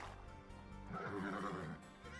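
A horse in the video game Age of Empires II: Definitive Edition gives a short, whinnying neigh in the middle of the clip, heard over the game's background music.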